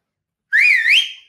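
A person whistles a single short, clear note that bends up, dips, then rises again, close and loud, lasting under a second in otherwise silent surroundings.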